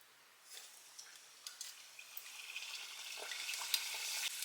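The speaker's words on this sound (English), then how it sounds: "Now let's get these fried up. I think my oil's hot enough." An egg roll deep frying in hot oil, its gentle crackling sizzle beginning after a short pause and steadily growing louder and busier, with scattered small pops throughout and no talking.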